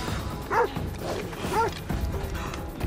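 A dog barks in the Assassin's Creed Odyssey video game, giving a few short separate yips and woofs at a moderate level over a low game background.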